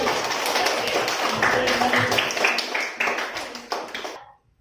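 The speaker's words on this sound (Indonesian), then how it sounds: "Beri tepuk tangan untuk kelompok 1" A classroom full of hands clapping together in a dense, steady burst of applause that fades out near the end.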